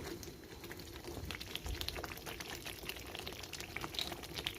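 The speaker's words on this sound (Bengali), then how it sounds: "আমি এখানে 2 কাপ ভিনেগার অ্যাড করব।" Two cups of vinegar poured into a sweet-sour chutney pickle, giving a steady liquid trickle and splash with soft rising texture, fairly close and unbroken, with no talking.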